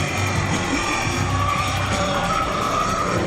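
A higher-horsepower drift car skids through a competition final, its tires screeching in a loud, continuous roar of engine and slide that stays dense from start to finish.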